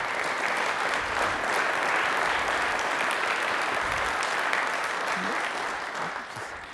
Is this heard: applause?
yes